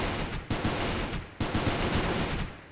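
Gunfire at mechs in the game Goobstation rattles in a dense, continuous burst of rapid shots, loud and close, with two brief gaps and no talking.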